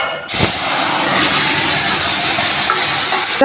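Black cumin seeds hit hot oil in a pan and sizzle loudly, a sudden bright frying hiss that starts abruptly and holds steady and close for a few seconds, without talk.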